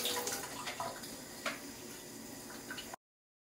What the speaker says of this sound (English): And now we're going to add some water.